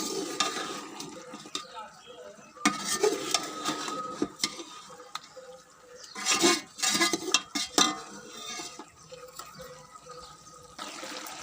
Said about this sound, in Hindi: अब इसको अच्छी तरह से मिक्स करेंगे और भूनेंगे अच्छी तरह से।